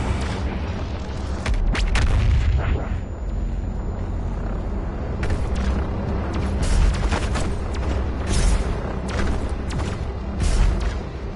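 BFG 10,000 firing in the shooter game Doom Eternal on Mars: a series of deep, heavy booms and rumbling blasts rolling out over eleven seconds, loud and echoing, with no voices over them.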